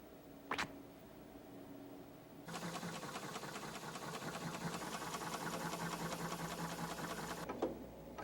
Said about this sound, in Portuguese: Esta máquina de soldar utiliza a mais moderna tecnologia.